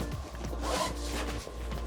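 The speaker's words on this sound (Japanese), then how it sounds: "かつこのバックパックの真ん中にジッパーがあるので" The thin, soft, non-waterproof zipper on the centre compartment of an Incase Tracks backpack is pulled in brisk, close, rasping strokes, repeated several times with no voices.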